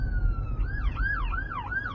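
An ambulance siren wails, starting as a steady tone and then swooping up and down in a regular rising-falling cycle over a low road rumble, fairly loud and close as it goes by, with no talking.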